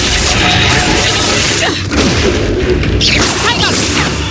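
In Hogwarts Legacy, the Reducto blasting spell lands as loud booming crashes layered over continuous game noise, with a sharp whooshing smash near the middle and another impact shortly after, all close and dense.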